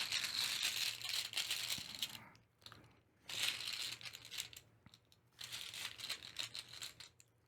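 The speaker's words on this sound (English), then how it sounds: "we're at round 10, so we're drawing 10 chips" Chips for the Coffee Roaster board game are drawn from a cloth bag, giving three bursts of close rattling and clacking as hands rummage through the tokens, with quiet pauses between.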